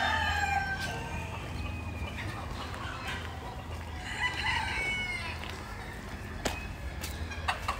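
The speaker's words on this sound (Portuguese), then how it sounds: "galinhas cantando" Chickens and a rooster call at Parque Água Branca in São Paulo, with clucks and a crow rising over busy outdoor park ambience, some sharp knocks and distant activity, moderately far away.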